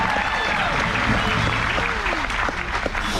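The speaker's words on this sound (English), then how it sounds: "Everyone, a round of applause for Alan." Loud, continuous applause from a crowd, dense clapping filling the room with some cheering and voices mixed in throughout.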